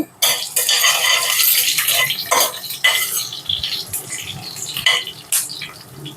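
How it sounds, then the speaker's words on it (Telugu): Dried red chillies with coriander seeds, cumin and fenugreek frying in oil, heard as brisk stirring and scraping of a spoon in the pan over a steady hiss, close and fairly loud throughout. "నాలుగు ఎండుమిరపకాయలు వేసుకొని వేయించుకోవాలి"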